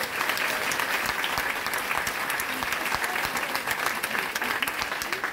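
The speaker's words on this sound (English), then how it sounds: "let's give her a big round of applause." At a parish celebration of a priest's 25th ordination anniversary and farewell, a church audience gives full, sustained applause throughout, with crowded, even clapping and no voices over it.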